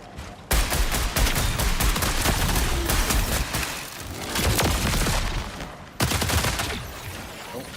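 Gunfire in a video game comes as loud, dense bursts of rapid shots, with sudden onsets and short pauses between volleys, close and harsh.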